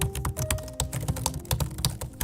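Fast, steady keystrokes on a slim, RGB-backlit gaming laptop keyboard, close and clear, a run of crisp clicks with no talking.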